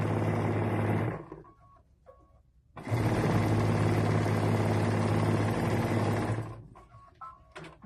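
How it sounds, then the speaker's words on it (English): A sewing machine stitching quilt rows together runs in a loud, steady mechanical whir for about a second, stops, then runs again for nearly four seconds, with small clicks and handling noises in the pauses. "So right now I'm sewing the top and the bottom rows together"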